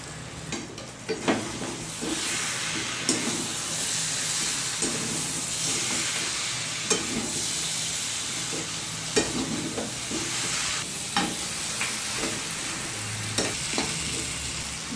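Bhetki fish bones frying with spices in a pan, a steady close sizzle with stirring clatter and occasional sharp utensil clicks throughout, no talking.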